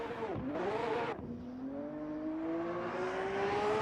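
A drift car in an Evolution Formula round 3 qualifying run in Montreal revs its engine hard. It drops briefly, then climbs in a long, steady, rising whine. The engine is loud and close throughout, with no voices.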